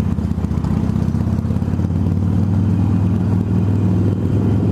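Harley-Davidson Sportster 883R motorcycle engine running steadily up close, a loud low throbbing rumble that holds throughout without pause, no talk over it.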